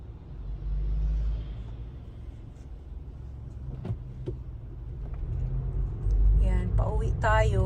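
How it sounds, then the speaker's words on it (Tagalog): Road traffic near a wedding and function hall: a steady low engine rumble as cars pass and idle close by, with a few faint clicks and a person speaking near the end. "Traffic talaga siya."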